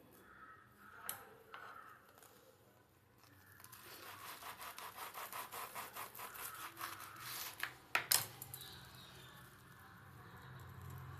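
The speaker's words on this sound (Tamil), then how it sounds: "அடுத்தது இன்னொன்று கட் பண்ணி காட்டுறேன் பாருங்கள்." A knife saws back and forth through a crispy fried potato box snack filled with melting cheese, a burst of rapid, rhythmic crunching strokes in the middle, with softer handling noises before and after.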